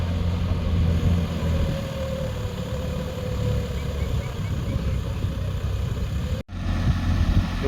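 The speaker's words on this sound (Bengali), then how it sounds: "তো বন্ধুরা গাড়িটা চলছে, দেখো 2 নম্বর মিডিয়ামে বন্ধুরা" A brand-new Swaraj 744 FE tractor engine runs steadily in second gear, with a continuous low, even drone close by and no talk over it.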